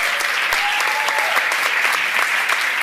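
Audience applause on a Catalan comedy talk show, a dense, steady wash of clapping that holds at an even level for the full stretch, with a faint voice briefly rising beneath it.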